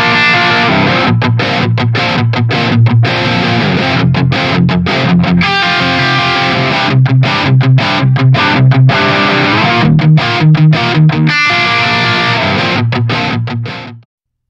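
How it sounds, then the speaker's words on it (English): Distorted electric guitar through the crunch channel of an ENGL Powerball amp plugin, playing loud, continuous chugging riffs with rhythmic palm-muted stops and sustained chords throughout. "take a listen to the voicing switches for that channel, just so you guys can hear how they affect the crunch channel."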